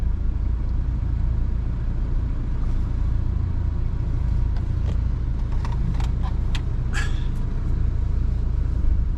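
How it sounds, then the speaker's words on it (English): A car engine runs steadily with a low, even rumble, heard from inside the vehicle, with a few faint clicks and taps. "The engine sounds smooth as silk."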